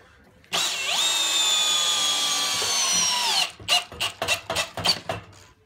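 A Milwaukee 2704 drill drives a lag screw without hammer mode, giving a loud, steady whine for about three seconds, then a rapid series of short ratcheting bursts as the clutch slips, close by with no talking.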